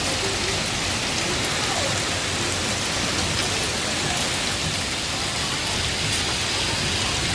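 Heavy hail pelts down outdoors in Bologna, Italy, in summer, a dense, continuous hiss of hard pattering impacts that holds steady throughout with no voices.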